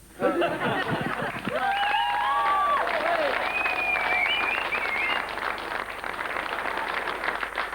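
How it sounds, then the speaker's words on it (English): Sustained audience applause at a UK comedy club after a stand-up comedian's set, a dense steady wash of clapping close by, with whistles and shouts rising over it midway. "Keep that applause going"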